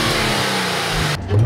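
Close, loud revving from a Nissan 350Z fitted with a pop charger air intake, a sustained throaty engine note that drops off abruptly near the end with no talking.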